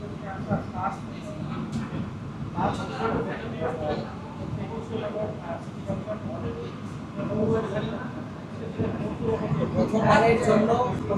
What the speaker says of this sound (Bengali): প্রথম এসি লোকাল এন্টার করছে কৃষ্ণনগর সিটি জাংশনে